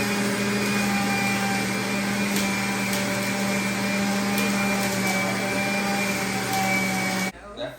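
A blender whirs continuously and loudly up close while blending cucumbers for spicy margaritas, a steady high motor whine that cuts off abruptly near the end.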